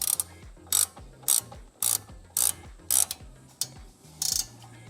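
A ratchet tightens a wheel nut onto a new stud on a Subaru BRZ in short, repeated bursts of rapid clicking, about eight strokes with brief pauses, close and fairly quiet.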